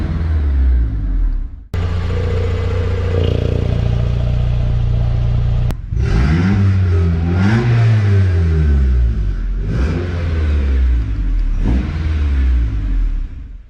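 Turbo K20-swapped Mazda truck with a 2.5-inch exhaust and electronic dump pipe, its engine loud and close, holding a steady high drone, cutting off briefly, then revving up and down in repeated swells.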